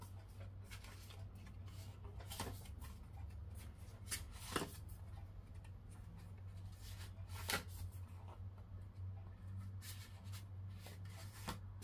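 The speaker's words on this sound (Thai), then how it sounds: "อาจารย์จะเป็นตัวแทนสับไพ่เพื่อเปิดดวงให้ท่านนะคะ" Tarot cards shuffled by hand during a Thai fortune-telling reading, a soft continuous riffling patter with a few sharper snaps, steady and close over a low background hum.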